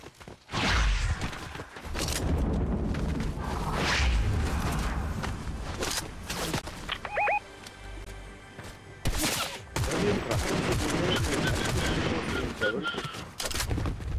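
Bursts of rapid gunfire and booms crackle through a busy game soundscape, with loud volleys, brief lulls and a few electronic tones between.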